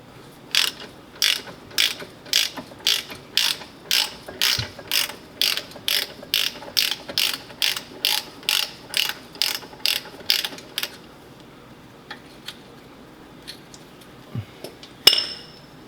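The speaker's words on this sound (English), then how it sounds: "I've got one ratchet on one side" A hand ratchet wrench loosens 16mm bolts on a Bentley Continental GT front air strut, giving a steady run of sharp, close clicks in even bursts, followed by a few scattered metallic clinks and taps.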